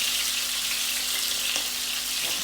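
Octopus pieces frying in hot oil, a steady close sizzle with broadband crackle running the whole time, one sharper pop near the end, no voices.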